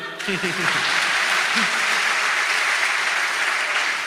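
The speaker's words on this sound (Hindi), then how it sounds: "इस पर तो जोरदार ताली बजाओ।" Loud, sustained audience applause fills a live Shri Bhagwat Katha religious discourse, with a brief voice rising over the dense clapping at the start before the applause continues steadily.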